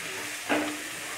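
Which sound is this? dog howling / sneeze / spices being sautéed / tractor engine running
spices being sautéed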